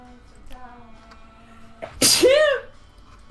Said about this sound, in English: one of my sneezes.